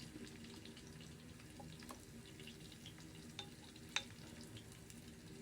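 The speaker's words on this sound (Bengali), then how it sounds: "নাড়া চলছে আর এদিকে কিন্তু আমাদের চিকেন ভাজাটাও হয়ে যাচ্ছে" Rice being stirred in a pan while chicken fries alongside, a low continuous sizzle with faint scraping from the stirring and a couple of small clicks, quiet and steady throughout.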